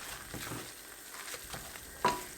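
Konya höşmerim, a Turkish dessert mixture, stirred and browned in a pan over low-medium heat: a soft continuous sizzle with gentle scraping strokes and one sharper clink near the end.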